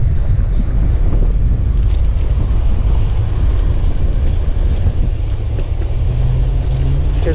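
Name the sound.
headwind while riding a bike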